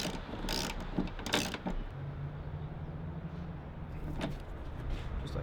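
A socket wrench ratchets a bolt tight on a car guard bracket while fitting bonnet struts, giving bursts of close, rapid mechanical clicking separated by short pauses.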